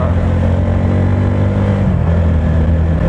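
Steady, close engine drone from an RTR motorcycle while riding, a constant low rumble with slight pitch wavering and no talk over it.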